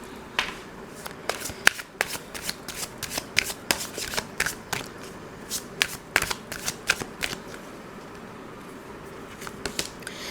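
Tarot deck being shuffled in repeated sharp riffling bursts, some louder than others, close by with no talking.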